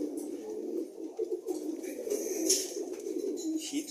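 Pigeons coo steadily in a pigeon room, a low continuous murmur of several birds close by with occasional brighter flutters and calls rising above it.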